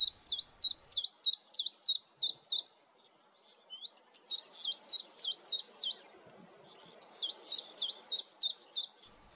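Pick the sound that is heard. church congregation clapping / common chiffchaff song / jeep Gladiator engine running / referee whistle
common chiffchaff song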